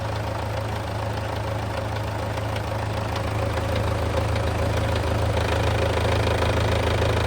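An MTZ tractor diesel engine runs close by at a steady, loud, rough idle with a knocking throb, continuous throughout with no voices over it.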